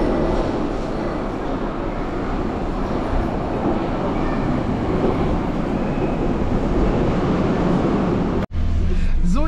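Berlin U-Bahn subway train running underground, a loud steady roar and rumble of wheels and carriage that continues throughout and cuts off briefly near the end, no talking heard.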